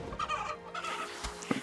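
Chickens in the video game RuneScape give a few short clucks close up, punctuated by a sharp game hit or click near the end.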